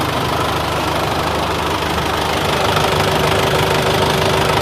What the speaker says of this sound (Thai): มา สตาร์ทบ้างเสียงเครื่อง ครับผมสตาร์ทติดครั้งเดียวนะครับ